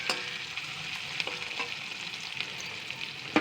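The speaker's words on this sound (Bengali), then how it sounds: "আর এই যে সর্ষের তেল দিয়েছি, কালো জিরা আর কাঁচা লঙ্কা ফোড়ন দিয়েছি, পেঁয়াজও দিয়েছি, পেঁয়াজ টমেটো" Onion, tomato, nigella seeds and green chilli fry in mustard oil as the base for a small-fish curry, making a soft, even sizzle broken by occasional sharp spoon scrapes and taps.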